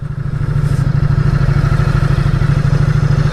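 A 2019 Ducati Diavel 1260S motorcycle rumbles loudly and close while ridden, a steady pulsing twin-cylinder engine throb holding a constant pace with a brief rise at the start and no talk.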